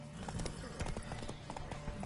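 Horse hooves clip-clopping in The Witcher 3 video game, a steady run of hoof beats close by with game ambience underneath and no talking.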